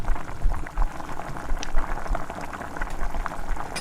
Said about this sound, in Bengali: এবারে আমি ধোকাটাকে তুলে দিয়েছি, ভালো করে ফুটিয়ে নেব।